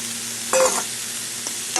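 A pre-fried fish head goes into a pan of sizzling spices and vegetables for a Bengali squash curry, a sudden loud hiss over a low steady sizzle, followed by a faint scrape near the end.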